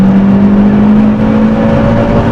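A modified MG6 car accelerates hard in second gear, its engine droning loud and steady from inside the cabin with a strong, constant tone throughout.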